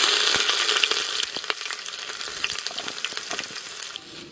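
Crackling, popping sizzle of cumin seeds frying in hot oil for a tempering, with sharp spits and crackles over a steady hiss.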